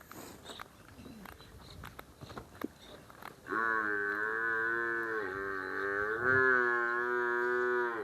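A female buffalo on a farm gives a long, loud, low moo that swells and holds for several seconds, close by. Scattered soft footsteps and rustling come before it.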